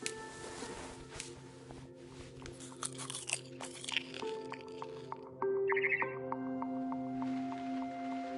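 Crunchy biting and chewing from a first-person eating scene in the video game What Remains of Edith Finch, repeated close crunches over a steady musical backdrop, with a sustained tone entering midway.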